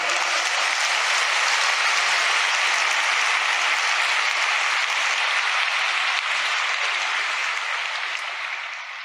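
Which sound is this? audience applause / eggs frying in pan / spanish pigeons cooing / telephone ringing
audience applause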